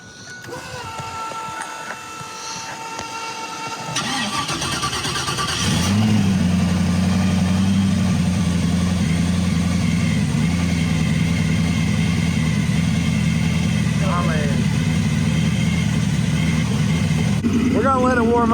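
A turbo muscle car cranks with a whirring starter, catches near six seconds and settles into a loud, steady rumbling idle up close, with occasional faint voices and short squeaks in the background.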